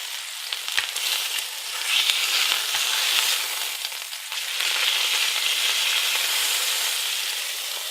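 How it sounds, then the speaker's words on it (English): A steak fries in a hot, greasy pan, giving a continuous loud sizzle with brief scraping and shuffling as the meat is pushed around, and no voices. "what's important is that you move the steak around."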